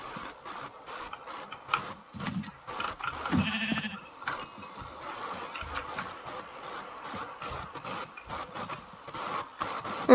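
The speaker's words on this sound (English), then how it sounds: "There's even a sheep up there." A sheep in the Minecraft video game bleats a few times among soft clicking game sounds and light background noise, with no talking.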